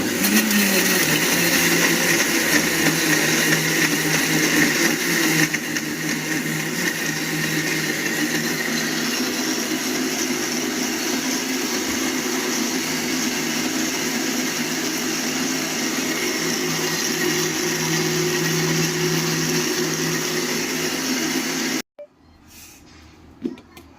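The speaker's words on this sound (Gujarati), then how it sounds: "એને આપણે મિક્સરમાં ક્રશ કરી દઈશું।" A mixer grinder blending figs and cashews whirs loudly and steadily for about twenty seconds, its motor pitch shifting slightly partway through, then cuts off abruptly.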